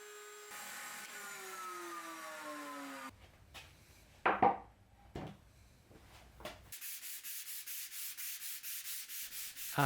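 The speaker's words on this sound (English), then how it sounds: "I made sure to be extra careful with sanding" Rhythmic, steady strokes from sanding plywood furniture pieces fill the last few seconds. They follow a whirring tone that winds down and a few close knocks and scrapes from the workpiece.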